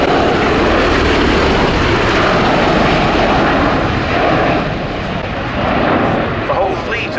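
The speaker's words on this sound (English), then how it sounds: "Final pass before departure for the Osprey." A USAF CV-22B Osprey tilt-rotor aircraft makes its final pass at an air show, a loud, steady roar of rotors and engines filling the whole stretch with a public-address announcer speaking over it.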